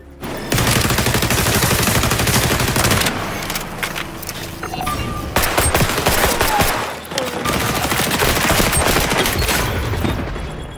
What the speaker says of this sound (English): I could hear which direction the gunshots were coming from